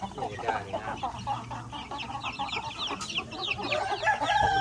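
A flock of chickens clucks busily and close, with overlapping calls and a rooster crowing in among them. The chatter is steady and dense over a farm field background.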